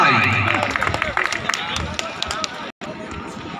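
Spectators at a volleyball final clap in a dense, continuous patter from a crowd, mixed with babble and a commentator's voice.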